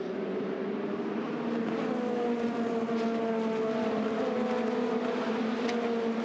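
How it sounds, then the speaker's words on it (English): Race cars at full speed in an endurance race on the Barcelona circuit, a steady loud engine drone with harmonic tones sliding through gear changes, running continuously with no talk. "The E-Deck car working its way through the right-hander there at turn 9."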